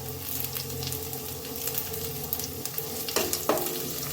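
Chopped green chillies and curry leaves fry with onion in hot oil for beetroot upma, a dense continuous sizzle with a few sharper crackles and stirring knocks near the end.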